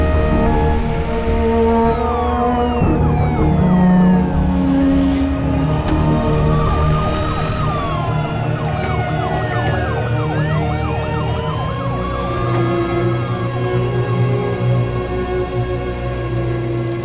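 An ambulance siren wails loudly and continuously, its pitch sweeping up and down in overlapping cycles amid emergency vehicles at a scene.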